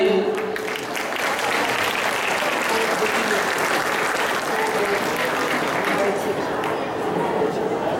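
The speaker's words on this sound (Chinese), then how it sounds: "请热烈掌声欢迎他们所带来的戏剧与歌唱的表演" Audience at a graduation ceremony applauds loudly and continuously, dense clapping from a large crowd lasting several seconds, with a voice talking over it near the start.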